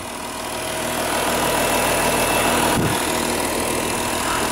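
A 2016 VW Touareg's 3.0 V6 TDI diesel engine idles up close, a dense, even, continuous rumble with a faint knocking texture and steady level throughout.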